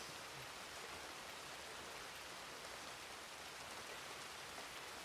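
Steady rain in a Red Dead Redemption 2 roleplay game, a constant even hiss of falling drops, soft and unbroken with no other sounds.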